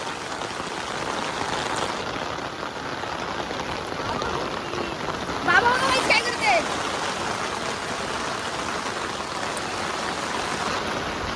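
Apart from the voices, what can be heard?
heavy rain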